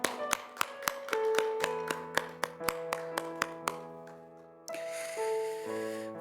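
During a Friday prayer service, a worship congregation claps in a steady rhythm over music, the claps crisp and evenly spaced before the clapping drops out and only the music carries on.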